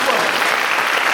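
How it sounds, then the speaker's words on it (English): Symposium audience clapping with their hands flipped the other way round, a dense, bright, steady burst of many claps sounding loud and continuous throughout. "Flip your hands the other way."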